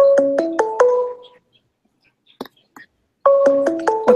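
Phone ringtone playing loud and close, a bright repeating melodic pattern of rising and falling tones that stops, leaves a quiet gap with faint whispers and clicks, then starts again.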